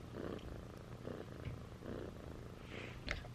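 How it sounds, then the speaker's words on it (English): Contented cat purring close up, a soft low rumbling purr in steady rhythmic pulses with breaths between them, alone and fairly quiet. "Purring and content."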